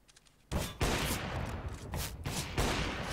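Rapid gunfire from Counter-Strike: Global Offensive, loud dense bursts of shots starting abruptly and continuing in clustered volleys throughout, close and dominant in the mix.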